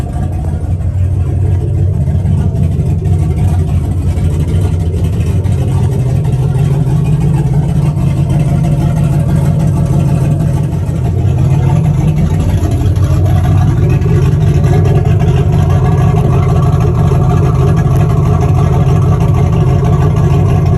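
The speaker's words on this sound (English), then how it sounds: "it just looks like it's misfiring and the muffler fucking fell off" A turbocharged Chevrolet Silverado pickup runs loud and rough with its muffler fallen off, a continuous open-exhaust drone that misfires and rises in revs partway through, heard close with no talking.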